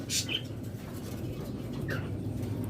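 A pair of opaline lovebirds gives two short, sharp chirps about two seconds apart, fairly faint over a steady low room hum.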